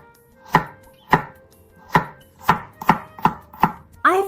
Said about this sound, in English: Slice the garlic thinly.